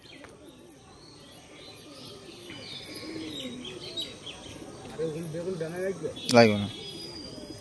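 Pigeons at a home loft coo softly and repeatedly in the background, with a few faint chirps, while someone talks nearby and a sharper sound rises briefly near the end.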